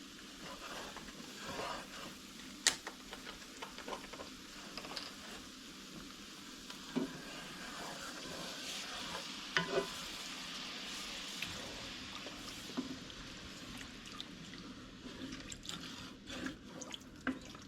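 Beef broth poured into a pan of frying Swedish meatballs, a steady close sizzle and bubbling with faint drips and stirring clicks, no talking.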